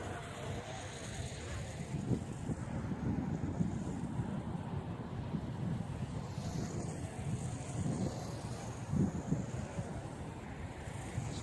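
Steady gusting wind buffets the microphone, a low rumbling roar that swells and dips faintly throughout, with no voices.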